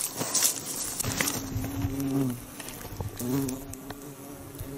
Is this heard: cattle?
no